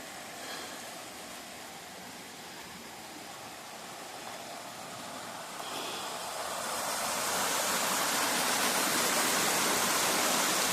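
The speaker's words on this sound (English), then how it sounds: "Little tiny secret waterfalls." Rushing water spills continuously at Sprague Lake in Rocky Mountain National Park, the flow swelling louder and fuller about halfway through, a steady hiss of small falls close by.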